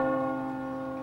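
The Liberty Bell rings as a sound effect in a Honda radio ad, one sustained metallic toll with rich overtones slowly decaying, heard alone.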